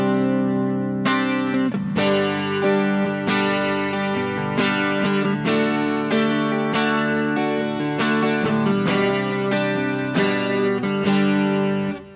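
Electric guitar through a Boss GX-100 playing sustained chords and notes, washed in echoing delay, lush reverb and shimmering stereo chorus, recorded mono, loud and continuous throughout.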